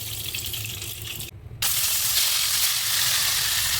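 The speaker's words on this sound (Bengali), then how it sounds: "আস্তে আস্তে মাছগুলো সবকটা ভেজে নেব" Koi fish frying in hot oil in a Bengali kitchen, a loud steady sizzle that drops out briefly, then returns just as strong and continues without pause.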